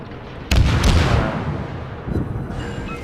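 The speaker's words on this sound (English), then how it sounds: "Romance is shooting at me again. He landed 1 shot there." Naval artillery fire in World of Warships from a Tier 5 Gnevy battle: one heavy boom lands sharply, then a long rumbling roll dies away before a second, softer thud, all loud and close with no voices.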